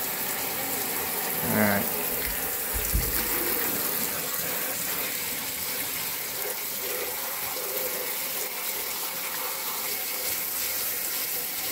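Tap water runs steadily throughout while a dirty part from a WGM K 7400 monitor is rinsed under it, with a brief splash and a short spoken word near the start.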